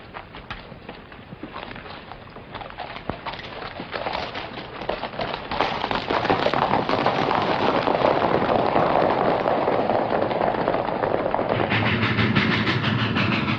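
A train rumbles along the rails with rhythmic clattering that grows louder and fuller, a continuous mechanical roar without voices.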